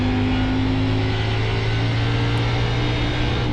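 Race car engine in the sim racing game iRacing: a steady, loud droning hum with strong low tones, held at constant pitch throughout without talk.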